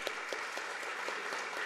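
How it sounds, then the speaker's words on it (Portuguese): An audience in a council chamber claps, a short burst of dense, steady applause from many people, even and sustained without any voice over it. "Vamos aplaudir, mestre e mestrinho"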